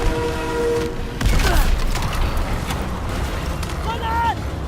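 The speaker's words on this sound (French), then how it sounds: "Mitrailleuse!" Machine gun fire in the Call of Duty WWII video game, a dense continuous rattle mixed with battle noise and a louder burst near the middle, under shouted voices.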